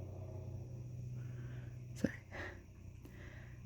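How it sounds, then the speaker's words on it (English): A dog sneezes once indoors, a single sharp burst in the middle of a quiet stretch, followed by a soft spoken word. "Sorry, my dog was sneezing."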